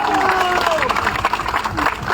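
Workers at a crowded rally at Jantar Mantar in Delhi, demanding restoration of the old pension scheme, applaud and cheer in a dense, steady roar that keeps going throughout, with voices and whistle-like tones rising above it.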